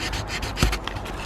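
A cloth or pad scrubs grime off a secateurs blade in a quick, close, scratchy rubbing burst with short repeated strokes.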